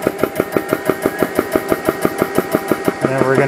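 A PCP air compressor pump starts up and runs with a fast, even mechanical thumping, around five beats per second, close and loud, shifting into a denser rattle near the end.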